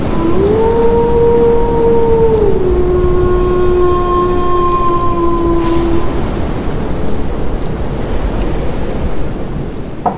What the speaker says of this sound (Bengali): বাইরে বৃষ্টি পড়ছে, মাঝে মাঝে ঝোড়ো দমকা হাওয়া হা হা করে উঠছে